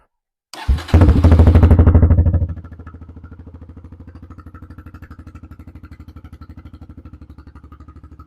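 A 2017 Kawasaki KLX140 dirt bike with its stock muffler cranks and fires, revving loudly for a couple of seconds before settling into a steady, fast-pulsing idle, close to the mic.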